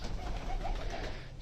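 Pigeons kept by a breeder coo softly outdoors, a few low rolling coos close by against a rustling background.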